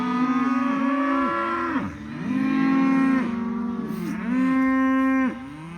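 A cow on a cattle drive gives three loud, drawn-out moos in close succession, each bellow rising and falling with brief pauses between, close by and with no talking.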